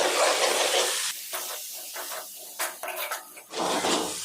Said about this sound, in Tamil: இப்போ நம்ம சேர்த்துக்கிட்ட மசாலாவை நல்லா பச்சை வடை போகும் வரைக்கும் வதக்கிக்கலாம்